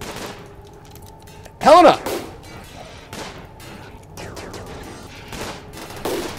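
Gunfire in the video game RimWorld, a short loud burst of shots near the middle followed by fainter scattered pops, with a voice shouting and talking throughout.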